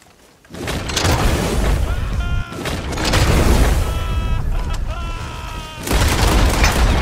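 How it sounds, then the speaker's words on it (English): Red Dead Online gunfight with incendiary buckshot blasts and rapid repeating semi-auto pistol shots, loud booming reports arriving in clustered volleys with brief lulls between them. "Two incendiary buckshots, repeating shots from semi-auto pistols, and this guy still didn't die."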